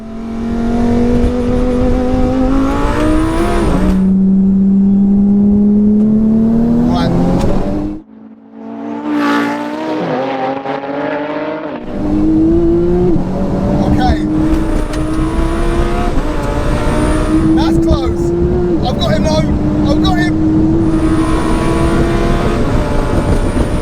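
Porsche Turbo S and twin-turbo Lamborghini Huracan drag racing from a rolling third-gear start, loud engines wailing upward in pitch through gear changes, with a brief lull in the middle before another hard pull builds again.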